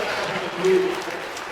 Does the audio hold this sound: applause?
yes